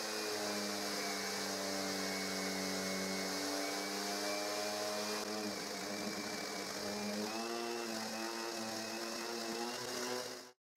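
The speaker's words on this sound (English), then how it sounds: "And I will sand them with the orbital sander." An orbital sander runs continuously on pallet boards for a garden chair, a steady whining hum with shifting tone as it moves over the wood, alone until it stops at the end.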